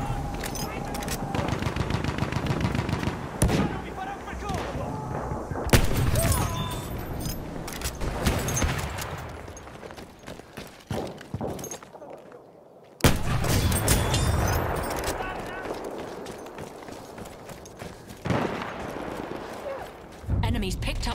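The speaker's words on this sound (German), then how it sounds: "Da! Feindliches Maschinengewehr!" Enemy machine gun fire in a war video game, long rattling bursts and scattered gunshots from mid-distance, broken by brief pauses, with a voice calling out over the shooting.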